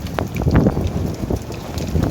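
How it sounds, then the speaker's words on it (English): Strong wind during a hailstorm, loud gusty buffeting roaring against the microphone in uneven surges, with faint impacts scattered through and no clear speech. "It's getting windy."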